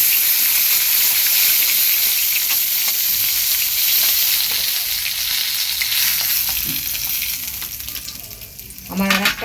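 Pieces of katla fish fry in hot oil in a pan, giving a loud, steady sizzle and crackle that fades slightly toward the end, with a brief clatter near the close.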